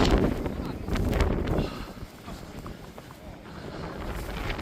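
Wind sweeps across a snowy mountain, roaring and buffeting the microphone in loud, uneven gusts that ease slightly before building again.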